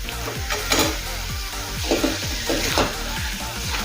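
Fried prawn pieces stirred through sautéed masala in a pan, with steady sizzling from the hot oil and a few clicks and scrapes from a spoon against the pan, close by and with no talking.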